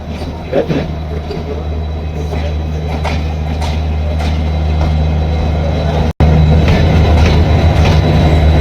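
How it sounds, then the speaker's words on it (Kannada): A train rumbles past close by on the crossing track while the listener's train is stopped, with a steady heavy drone and faint clacking of wheels, continuing loudly and evenly throughout. "ಯಾವುದೋ ಒಂದು ಟ್ರೈನ್ ಕ್ರಾಸಿಂಗ್ ಆಗ್ತಾ ಇದೆ, ಅದಕ್ಕೆ ನಮ್ಮ ಟ್ರೈನ್ ಸ್ಟಾಪ್ ಮಾಡಿದ್ರು"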